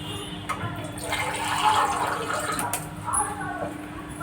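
About one and a half glasses of fresh water splash steadily into a pan of mango prawn curry, a continuous close pour that gurgles and tapers off.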